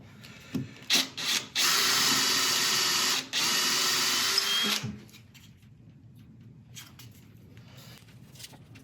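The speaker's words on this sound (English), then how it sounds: "I'm just gonna flatten off an area here with the forcing a bit, put a worm screw hole in" A Forstner bit drills a worm screw hole into a cracked apple log, giving a few short whirring bursts followed by a sustained, loud high-pitched grinding drone that stops abruptly, then faint rustling.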